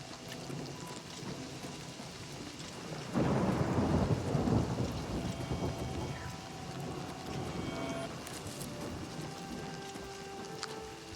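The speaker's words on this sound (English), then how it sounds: "That noise, the rain." In the video game Oblivion Remastered, steady rain falls while a thunderclap rolls in about a third of the way through and slowly fades beneath the ongoing downpour.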